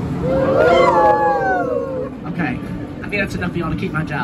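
Riders on the Snake River Expedition boat ride at Cedar Point imitate a wolf howl together, a loud group of rising and falling human howls in the first two seconds, followed by a guide talking over the crowd.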